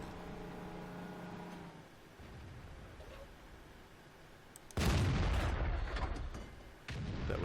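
Two heavy tank gun shots from the World of Tanks video game, booming and loud at close range, the second following about two seconds after the first over steady engine rumble.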